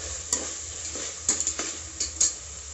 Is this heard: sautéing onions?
yes